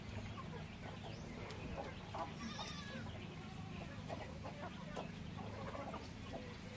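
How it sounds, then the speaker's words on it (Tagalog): Chickens crossbred from native, hulo and Rhode Island stock clucking and calling on a farm, several birds scattered near and far over a low steady rumble, with other livestock sounds mixed in. "Yung mga manok natin guys is crossbreed yan ng native, hulo, at saka Rhode Island."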